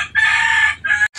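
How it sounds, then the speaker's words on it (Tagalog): A rooster crows loudly and close by in one drawn-out call, cut short by a brief break and the start of another. "Nasimula naman ang mga manok dito."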